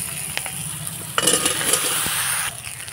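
Raw banana and potato sizzle steadily in a pan with fried onion, green chilli and five-spice, while a spatula scrapes and stirs with a few clinks.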